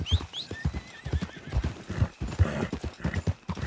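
Steady clip-clop of horse hooves at a walking rhythm in the video game Red Dead Redemption 2, close by, with faint whinny calls over the footsteps.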